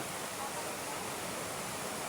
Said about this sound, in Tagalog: Andito tayo ngayon sa ilog.